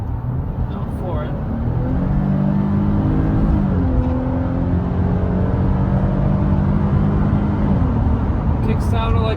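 A 2013 Lexus RX350 with a 3.5 liter V6 accelerates, its engine hum rising and shifting in pitch under a continuous loud road drone. No speech is heard.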